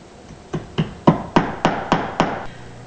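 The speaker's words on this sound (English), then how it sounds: "and hammer it in." Seven sharp hammer blows drive a small upholstery tack into a sofa frame, struck in a steady, evenly spaced rhythm, close and alone with no talk.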